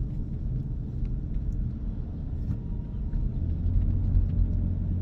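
Slow road traffic rolls past as a steady low rumble of car engines and tyres, swelling slightly toward the end, with no voices.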